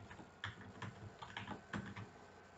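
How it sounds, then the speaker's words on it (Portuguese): Computer keyboard arrow keys are pressed again and again in a quiet room, giving a steady run of light, fairly faint clicks with no voices. "Eu estou usando as setas do teclado."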